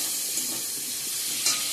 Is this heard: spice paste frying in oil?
yes